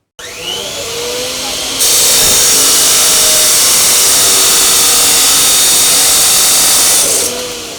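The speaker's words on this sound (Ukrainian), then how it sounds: "Гучні звуки зварювання ударів молотка та ріжучого металу." Metalworking by volunteers building portable stoves for soldiers: a loud, steady broadband roar of metal cutting or grinding dominates most of the stretch, with fainter tool noise before and after and no clear talk.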